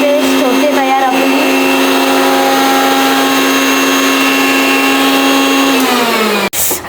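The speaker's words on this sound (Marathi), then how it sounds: "आणि मी आता मिक्सरला लावतो." An electric mixer grinder whirs loudly and steadily for several seconds while grinding ginger and garlic paste, its high motor whine holding even before winding down and cutting off near the end.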